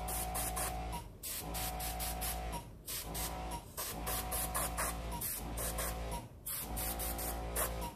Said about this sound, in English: I'm just going to use my airbrush just here for a bit.